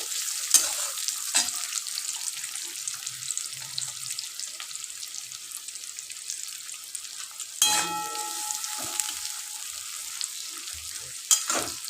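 Onion frying in a pan for South Indian style fried rice gives a constant bright sizzle, with scraping stirs and a louder clatter of the spatula midway, heard up close with no talk.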